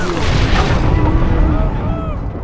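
A loud, rumbling explosion of explosives in Red Dead Redemption: Undead Nightmare, a dense boom that rolls on throughout, with a voice talking over it.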